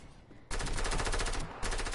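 A sudden burst of rapid automatic gunfire in a video game erupts after a brief quiet moment. It rattles on loudly, pauses briefly, then resumes in a dense continuous stream.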